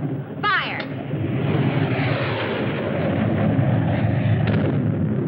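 A spaceship weapon fires during a bombardment in a 1954 science-fiction space serial: a steady, heavy roaring blast with a brief whistling sweep at the start, loud and sustained for several seconds.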